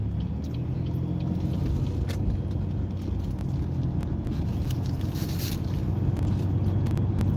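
A car driving slowly through a turn in dangerous weather, a steady low road rumble and engine drone throughout with faint hiss and brief clicks above, close and constant with no talk.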